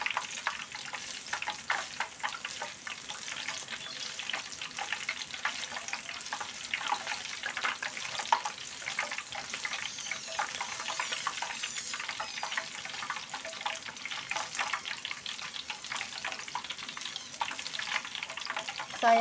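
Black soybean peanut brittle (peyek) frying in hot oil in a wok, a steady dense sizzle and crackle running without pause from start to finish, close and fairly loud, with no talking.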